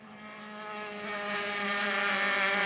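Formula Enterprise race cars at the SCCA Runoffs, a loud steady engine drone rising in pitch as a car accelerates past, with sustained harmonic whine and no talk.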